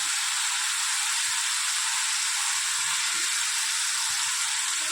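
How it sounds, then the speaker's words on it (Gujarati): Onion, tomato and spices sizzle steadily in a pan for a sweet corn paneer dish, a dense continuous hiss that stays close, even and moderately loud. "ડુંગળી અને ટામેટાની સાથે સાથે આપણા મસાલા પણ સરસ એવા શેકાઈ જાય"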